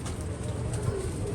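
Pigeons coo softly and continuously nearby, low rounded calls over a steady background murmur.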